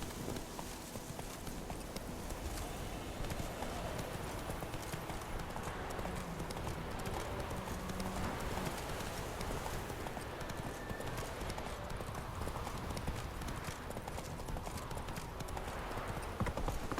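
Horse hooves clip-clopping steadily in The Witcher 3, a continuous rhythmic trot over a dense background of game ambience and faint voices.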